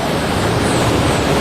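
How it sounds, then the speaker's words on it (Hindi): Rain falls in cold, January-like winter weather, giving a dense, continuous hiss that stays loud and even throughout with no voices. "पानी पड़ना शुरू हो गया"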